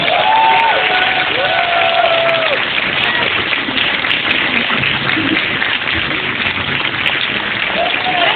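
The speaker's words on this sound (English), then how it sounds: "let us give Amway Philippines a warm of applause" Warm audience applause for a guest speaker at an evening corporate event in Manila, a dense, steady roar of clapping lasting throughout, with faint cheers and whistles mixed in.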